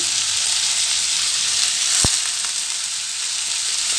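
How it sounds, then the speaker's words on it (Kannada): Soaked moong dal sizzles loudly in a hot frying pan, a dense, steady hiss close up with a single sharp knock partway through. "ಈಗ ನೆನೆಸಿರೋ ಅಂತ ಹೆಸರು ಬೇಳೆ ಹಾಕ್ತಾಯಿದ್ದೀನಿ"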